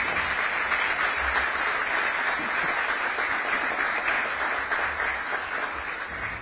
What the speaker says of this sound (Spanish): Un aplauso para él donde quiera que se encuentre.